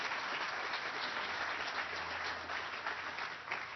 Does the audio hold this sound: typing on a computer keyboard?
no